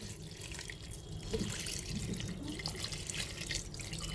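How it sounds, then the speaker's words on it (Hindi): Water poured into a pot of mutton with spices to make stock for white mutton pulao, a steady splashing, trickling pour heard close and continuous at moderate level. "अब इसमें पानी डाल देंगे क्योंकि अब हमको अखनी बनानी है।"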